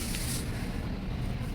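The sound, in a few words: varnish being sprayed from a spray can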